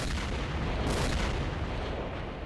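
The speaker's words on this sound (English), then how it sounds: "Who's shooting?" Heavy gunfire and booming blasts in Stalker: Shadow of Chernobyl, a dense, continuous roar of shots and explosions with rocket launcher fire filling the whole stretch, loud and unbroken, with no voices over it.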